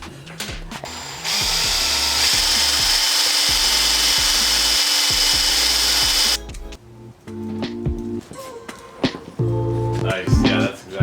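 A power drill runs in one sustained whirring burst for about five seconds while assembling an 80cc two-stroke gas bike kit, followed by clattering handling noises and people talking nearby.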